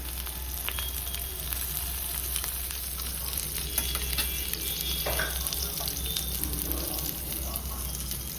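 Whole cumin and capsicum frying in a little oil in a pan, a steady close sizzle with faint crackles over a low background hum.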